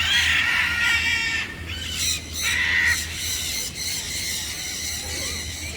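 Bright tropical birds at Bird Park Singapore squawk and call in a steady, busy chorus, with harsh bursts rising over a constant low hum of the park's background.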